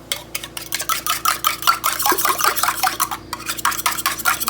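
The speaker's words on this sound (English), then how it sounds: "I'm going to whisk in 2 eggs to the butter and sugar mixture" Eggs whisked into a butter and sugar mixture for banana bread, a rapid, continuous metallic clatter of whisk against bowl, close and fairly loud with no talk.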